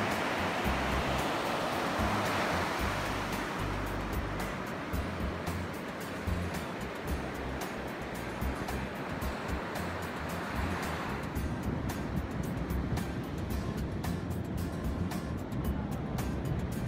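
Surf rolling onto a beach in Phuket, a continuous broad wash of breaking waves with wind noise, steady and fairly close, with no talking.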